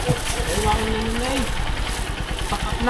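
Small engine running steadily on a farm, a close rhythmic putter with a continuous drone, under a man's speech.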